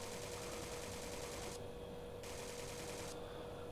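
Rapid automatic gunfire from a rifle fitted with a thumb grip in a shooting video game, a dense continuous stream of shots in long bursts, loud and close, with a short pause between bursts.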